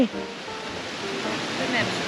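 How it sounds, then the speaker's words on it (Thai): Steady rushing water roars without a break, a continuous wash of a waterfall in Chiang Mai, Thailand, heard from nearby. "โอ้ดูน้ำตก ใช่มีน้ำตกด้วย"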